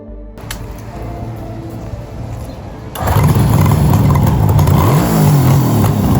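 A road motorcycle engine idles steadily, then revs up sharply and holds a louder, rougher roar for several seconds, close and alone with no talking.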